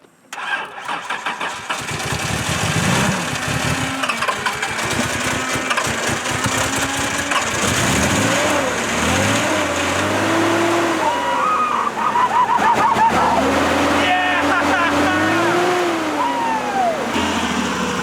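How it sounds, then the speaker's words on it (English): A Nissan 300ZX makes its first cold start, the starter cranking briefly before the engine catches and runs loudly and roughly up close, revving and wavering unevenly throughout. "we're about to start it, so let's see if it works. First cold start."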